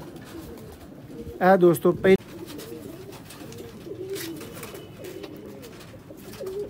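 Pigeons, a breeding pair kept for sale, coo in a short loud burst near the start, followed by quieter low cooing and ambient noise while someone talks over the birds.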